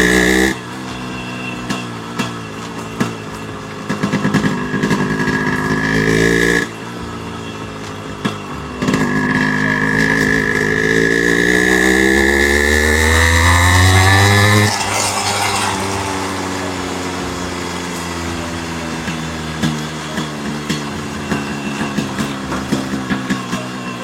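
Yamaha RX100 two-stroke motorcycle engine running loud and close, with rising and falling rev sweeps and a steady idle later on, and no talk.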